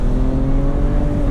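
A 2008 BMW 335i with a manual gearbox accelerates, its engine giving a steady, loud, close droning hum with no one talking over it.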